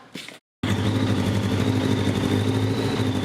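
A motorcycle engine running at a steady idle indoors, a loud continuous low rumble with a constant drone, alone after a brief cut at the start.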